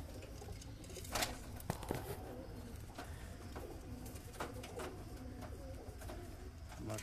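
Newly paired pigeons coo back and forth in a loft, a steady low cooing layered with soft patter and shuffling, close by and continuous with no voices.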